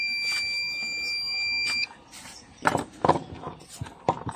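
A homemade electrician's wire tracer with a short-protection alarm gives a steady high electronic tone for about two seconds, then stops, followed by a few sharp clicks and taps nearby.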